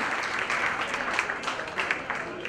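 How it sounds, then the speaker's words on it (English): An audience at a book launch for a women's leadership book applauds: sustained, full clapping from a crowd indoors, dense and even throughout, with occasional louder claps popping out. "a big round of applause for him"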